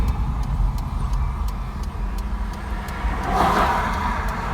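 A car drives into Puerto Seco beach through the paid entrance, its engine a steady close rumble throughout with a brief surge of louder noise near the end.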